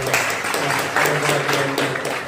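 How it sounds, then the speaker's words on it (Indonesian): A school audience at a student organisation talk claps, a steady wash of applause running the whole time with scattered sharper hand claps and a voice murmuring under it. "Tepuk tangan dulu saya."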